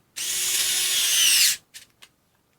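A TONE CHD221S hybrid electric screwdriver runs a torque test, a steady high motor whine for about a second and a half that stops abruptly, followed by two short clicks.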